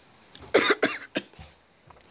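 A short burst of three or four harsh coughs close to the microphone, followed by a softer throat sound.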